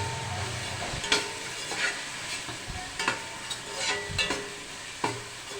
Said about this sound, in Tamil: இதை நல்லா போட்டு ஒரு கொதி, அதாவது கொஞ்சம் நல்லா சூடு ஏறணும்.